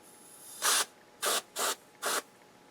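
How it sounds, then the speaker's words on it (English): Freeze spray aimed at semiconductors inside an Onkyo Integra A-917 integrated amplifier: four short, close hissing bursts, each under half a second, with quiet gaps between them. "I'm going to use a little cold spray on some of the semiconductors just to see."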